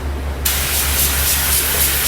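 A spray gun sprays toner onto a door face, giving a steady, loud, close hiss that starts abruptly and runs continuously to the end with a low hum underneath.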